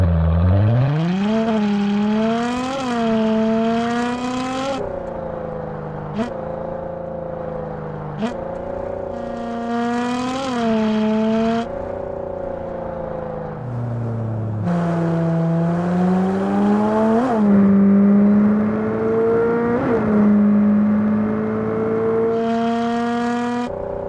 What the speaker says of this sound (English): I use Crankcase Audio REV inside Wwise as the core of the engine system.